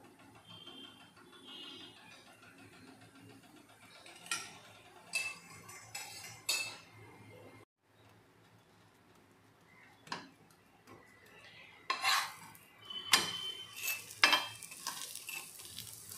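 A dal sandwich toasting in oil on a pan gives a low, quiet sizzle, broken by clattering utensil and pan clicks and scraping that grow busier toward the end.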